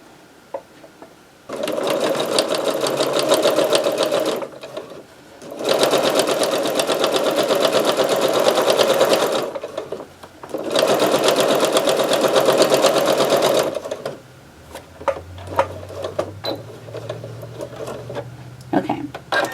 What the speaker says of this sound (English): I'm going to flip it around, and I'm going to take another seam right here.